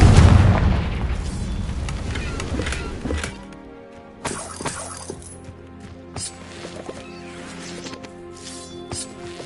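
A Confringo fire spell bursts in Hogwarts Legacy: a loud, booming explosion opens and rumbles for a few seconds, then decays, followed by a sharper, smaller crack and scattered lighter impacts.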